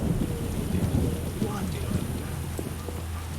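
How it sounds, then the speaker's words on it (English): Steady rain with low rumbling thunder in The Witcher, a continuous wash of downpour filling the whole stretch, with faint hoof clops from a horse underneath. "In the amazing rain."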